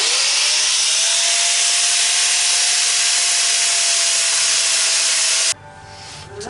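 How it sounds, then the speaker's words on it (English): Angle grinder working a gap in limousine bodywork, a loud continuous high-pitched grinding hiss with a steady whining tone for about five seconds, then cutting off abruptly to quieter clatter. "come in with our grinder, try to make it even, more even than it was"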